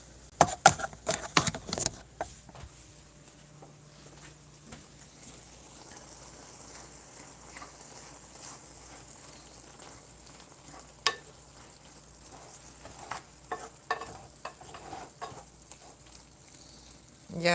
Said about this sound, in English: Let's stir the meat a little bit.